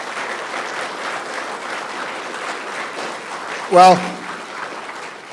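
An audience at a township council meeting applauds a veteran with a steady, moderate round of clapping in a large room, and a voice briefly cuts in near the end.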